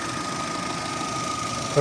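A 2008 Opel Meriva A's 1.6 petrol engine idles steadily close by, rumbling with a faint constant whine above the low hum; a louder burst comes near the end.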